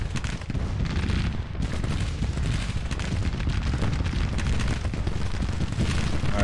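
Dense, continuous musket volleys roll from a brigade in Grand Tactician: Civil War, a loud unbroken crackle and rumble of massed gunfire with deep booming underneath.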